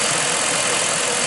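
A Chrysler Hemi V8 with a noise problem runs steadily, its loud, close, continuous mechanical roar and hum unbroken, with no talking.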